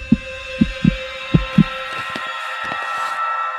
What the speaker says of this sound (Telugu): అది నా గుండె చప్పుడురా